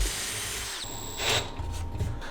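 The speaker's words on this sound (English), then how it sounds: "If you start drilling through here, you're gonna have tear out on the other side." A power drill whirs steadily up close, drilling through wood against a stop block, its pitch shifting briefly as the bit bites into the material, then continues grinding.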